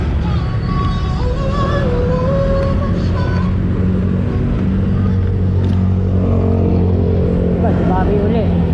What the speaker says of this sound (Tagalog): Dumami uli ang sasakyan.